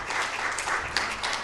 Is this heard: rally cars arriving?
no